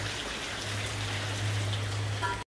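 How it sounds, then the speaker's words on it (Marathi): Steady hiss of rain falling, even and dense throughout, with a low hum underneath, ending abruptly. "जोराम पाऊस आले।"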